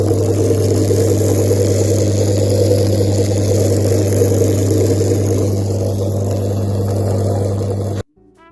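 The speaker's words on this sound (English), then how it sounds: "So, you start the car and you listen to the pump." A steady, loud mechanical hum of a Mercedes KE-Jetronic fuel pump running with the engine idling, continuous for about eight seconds before cutting out.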